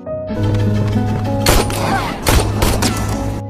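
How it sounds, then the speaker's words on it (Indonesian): Gunshots from a killer chasing a fleeing woman in a film, two or three sharp, loud cracks standing out over a sustained dramatic music bed. "Sang pembunuh yang menyadari jika Sophia melarikan diri langsung mengejarnya dan sempat menembakkan beberapa tembakan"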